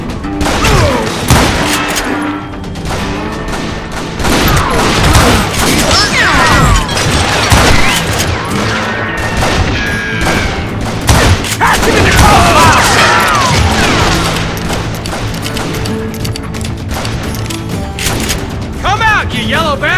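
Rapid gunfire and heavy booms crash through a chaotic shootout in the Western shooter game Call of Juarez Gunslinger, with shots layered thickly over loud shouting voices and clattering impacts.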